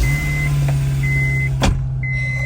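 A Honda Civic EG fitted with a swapped GSR engine idles steadily, a close, even low hum with a faint tonal whine and a brief clunk partway through.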